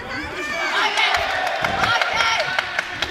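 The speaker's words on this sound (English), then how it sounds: "Really enthusiastic support right behind us here, which is great to hear. Cheering every single success" A large indoor crowd cheers and whoops steadily at a boxing match during the World Boxing Cup Finals in Sheffield, with sharp shouts and scattered claps rising over a continuous roar of voices close behind.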